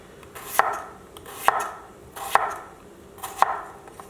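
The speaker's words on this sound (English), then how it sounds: "You also want to try to cut them small because they cook faster." A knife cutting potatoes small and thin on a cutting board, four evenly spaced, crisp chops about a second apart, each with a sharp board knock, close up and alone without talk.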